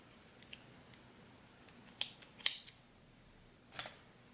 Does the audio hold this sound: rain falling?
no